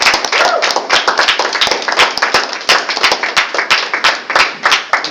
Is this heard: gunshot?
no